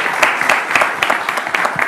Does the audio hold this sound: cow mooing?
no